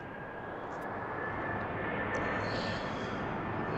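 Airliner engine roar at an airport runway, a steady broad rumble that builds slightly and holds for several seconds, fairly distant and without talk.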